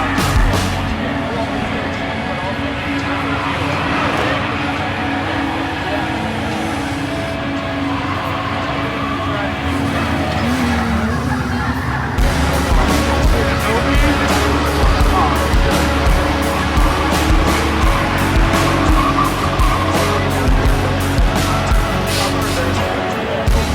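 A drifting car with too much angle cooks its tires, and a loud, continuous roar of engine and tire noise fills the whole stretch, with a rougher, pulsing scrub joining partway through.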